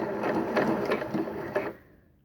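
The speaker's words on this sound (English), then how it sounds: "I am sewing" A sewing machine stitches a seam on a line 5/8 inch from the cut edge, a steady close rapid whirring with quick rhythmic needle pulses that runs for about two seconds, then winds down and stops.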